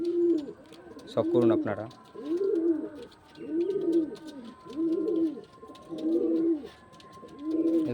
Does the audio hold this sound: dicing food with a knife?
no